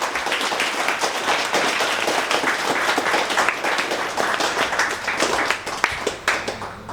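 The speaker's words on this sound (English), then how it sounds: "Let's give a round of applause for all of our athletes." A crowd at a pro mountain bike panel event claps for the athletes, a loud, dense round of applause with scattered sharper claps standing out as it goes on.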